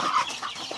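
Village chickens fighting, with a short burst of close clucking and squawks, fairly faint, lasting under a second.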